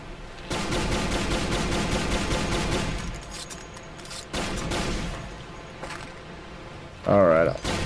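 Gunfire in the Duke Nukem shooter game comes as sustained bursts of rapid shots, loud and dense at first, then stopping and restarting in shorter volleys, with a voice speaking briefly near the end.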